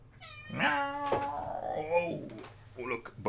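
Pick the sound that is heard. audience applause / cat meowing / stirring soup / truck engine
cat meowing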